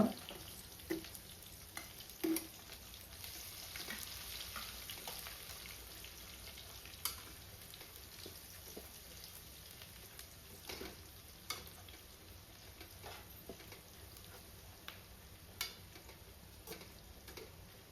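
Onion frying in hot oil with whole spices, a faint continuous sizzle heard from a distance with light scattered ticks and pops throughout, no voices.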